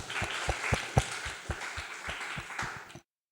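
Applause from an audience at a club meeting: a few distinct, fairly close hand claps in a loose rhythm over a soft bed of clapping, ending abruptly after about three seconds.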